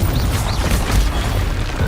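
Confringo blasting curse explosions in Hogwarts Legacy, heard as loud, rumbling booms and bursts layered over dense game noise that continues the whole time.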